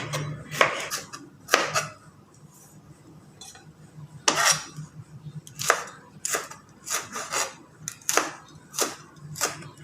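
Green chilies being chopped with a knife for pickle, crisp irregular knife strikes against a cutting board, close and fairly quiet, in short bursts with pauses between.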